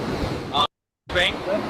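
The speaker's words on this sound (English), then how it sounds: "You can hear the waves in the background and the wind blowing as if he's shooting it with an iPhone." Ocean waves and wind at a sunny beach, recorded on an iPhone, a rough windy wash of surf broken by a short gap, with microphone buffeting throughout.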